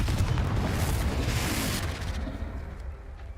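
A Confringo blasting spell exploding in Hogwarts Legacy on PS5: a loud rumbling blast already underway that rolls on and fades gradually over a few seconds, with no talk.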